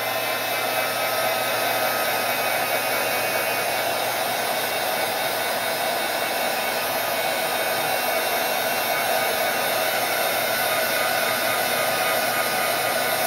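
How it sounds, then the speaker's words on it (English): A hair dryer blows with a loud, constant roar for the whole stretch, drying a glimmer-misted Prima paper flower held in a bucket, with no breaks and no voices. "So I'm drying this in the bucket so that it'll keep from flying away on me."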